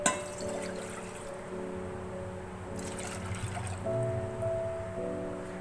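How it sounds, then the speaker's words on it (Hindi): Water, two glassfuls, poured into a pan sitting on a stovetop, a steady trickling pour heard close and fairly quiet for several seconds with faint background hum. "इसके अंदर 2 गिलास पानी ऐड करूँगी"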